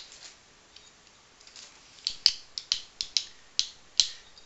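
A cheap foldable multi-tool with pliers being folded, giving a run of sharp metallic clicks and snaps, about eight crisp close clacks spaced unevenly in the second half, with no talk.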